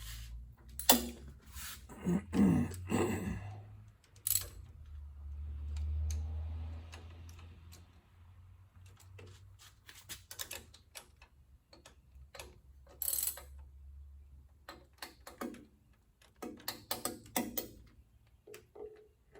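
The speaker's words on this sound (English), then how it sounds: "Grab my torque wrench." A torque wrench clicks several times as bolts are tightened on a Detroit Diesel 12V92 engine, sharp close ratcheting snaps in irregular clusters separated by quieter handling and shuffling.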